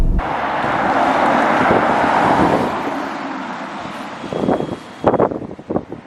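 Aston Martin Rapide driving in sports mode, with a sustained engine and road rumble mixed with wind noise that fades out and gives way to a few irregular thumps and bumps near the end.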